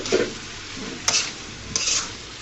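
Potatoes and ghugni ingredients are stirred together in a sizzling pan, a continuous frying hiss broken by a couple of sharp scraping clinks from the spoon against the pan.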